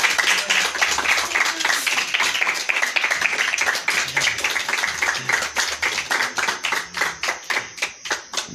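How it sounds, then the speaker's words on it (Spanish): An audience claps after a live acoustic concert, steady applause gradually thinning into slower, more distinct individual claps near the end. "Muchos aplausos."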